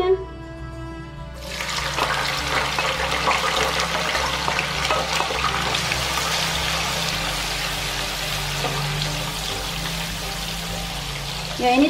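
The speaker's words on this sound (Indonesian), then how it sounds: "Kemudian lanjut kita goreng terinya." Steady sizzling and crackling of anchovies frying in hot oil, a dense continuous hiss that holds loud and even throughout, close by.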